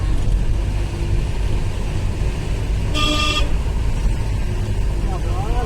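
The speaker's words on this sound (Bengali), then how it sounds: "এখানে হর্ন দিতে বলছে" A single short car horn honk cuts through steady engine and road rumble on a narrow mountain road, with voices in the background.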